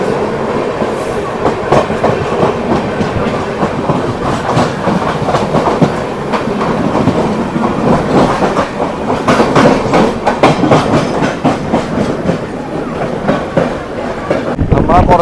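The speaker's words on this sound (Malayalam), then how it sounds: "ഇതേപോലെ നമുക്കൊരു ട്രെയിൻ കയറി വരുന്നുണ്ട്." The Kerala Sampark Kranti Express, running Chandigarh to Kochuveli, passes close by with loud rhythmic wheel clickety-clack and a rumble that builds and stays strong throughout.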